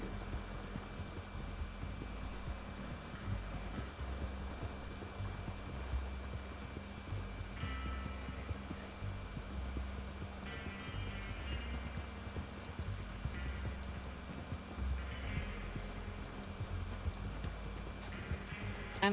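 Horse hooves clip-clopping in Red Dead Redemption 2 online gameplay, a steady trotting rhythm under a constant low hum and game ambience, with no talk over it.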